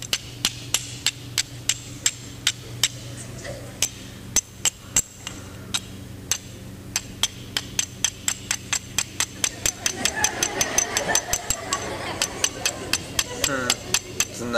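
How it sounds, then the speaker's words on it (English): Steel struck against rock to make sparks for an old-fashioned fire, a long run of sharp, bright clinks, steady at first and then quicker and denser, close and loud, with low voices murmuring underneath. "What we're about to do is start a fire old-fashioned way with steel and rock."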